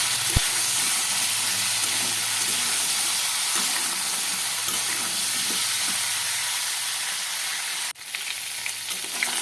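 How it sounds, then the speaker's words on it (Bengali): Chopped vegetables frying in a pan while being stirred, a steady close sizzle with intermittent scraping stir strokes and a brief knock near the end. "আমি কেটে রাখা বাকি সবজিগুলো এর মধ্যে দিয়ে নাড়াচাড়া করছি"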